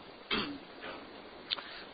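A single short, muffled cough or throat clear sounds close by against a faint hiss of background noise, followed by a smaller second burst moments later.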